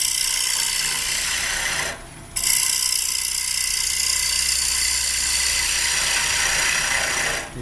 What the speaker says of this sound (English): My go-to for hollowing a bowl is just the round carbide cutter because it's the biggest cutter, biggest radius cutter, and it removes a lot of wood.